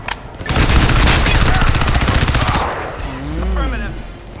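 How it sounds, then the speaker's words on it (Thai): Rapid automatic gunfire from the Crysis 2 video game rattles loudly for about two seconds in a dense burst, then fades as a voice speaks briefly. "ตกใจปืนลั่น ขอโทษ"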